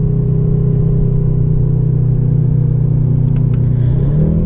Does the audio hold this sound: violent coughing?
no